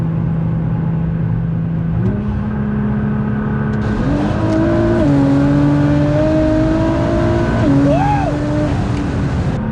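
A Nissan GT-R on a stage 3 tune with new injectors downshifts and accelerates at full throttle, its engine note rising in steps through gear changes as a loud, continuous drone heard from inside the car.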